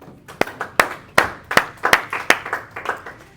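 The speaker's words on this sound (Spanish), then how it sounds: "dale un aplauso a Cristo por esa palabra" A single pair of hands claps in a church teaching session, about a dozen sharp, close claps in an uneven rhythm, with no talking over them.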